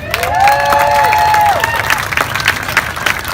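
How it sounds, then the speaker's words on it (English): A crowd at a Detroit street rally and march cheers and claps, with a sustained whistle-like rising tone near the start and scattered shouts over a steady roar of applause. "So Abdul, give it up, give it up, give it up."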